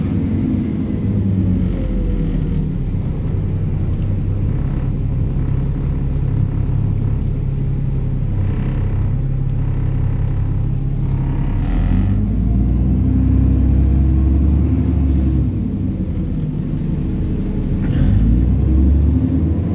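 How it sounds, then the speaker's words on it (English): Onboard a Stagecoach East Midlands bus in Scunthorpe, a 2007 vehicle on Service 1, the engine keeps up a loud, continuous low rumble with steady road noise and mild swells as it drives. "This bus journey is now on board Stagecoach Scunthorpe 19179"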